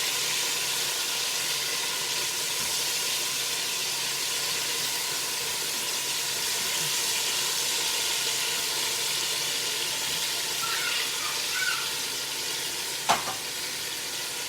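Food sizzles and fries steadily in a pot as it starts cooking, a constant close hiss with one brief sharp knock near the end and no speech.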